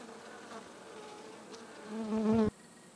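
Golden Buckfast honey bees buzz around nucleus hives, a steady close hum with a brief louder, higher-pitched swell as one bee passes near before it cuts off.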